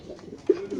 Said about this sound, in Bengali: এটা কি কবুতর ভাই?